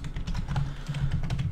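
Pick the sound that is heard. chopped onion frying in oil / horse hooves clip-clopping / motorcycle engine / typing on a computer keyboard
typing on a computer keyboard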